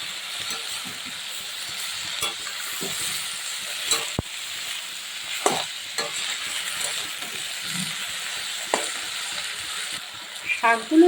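Spinach roots stir-fried over a low flame in a pan, with a steady soft sizzle and occasional scraping, clinking stirs, fairly close and without talk.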